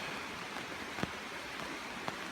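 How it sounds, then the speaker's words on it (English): Steady rain falling in woodland at a wet hammock campsite, a broad continuous hiss with a couple of faint taps, fairly quiet and with no voices. "Well, it's raining again."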